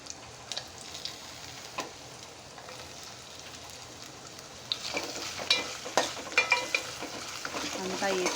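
Chicken frying in a pan, a soft crackling sizzle that grows louder and busier partway through, with occasional stirring scrapes and no talk.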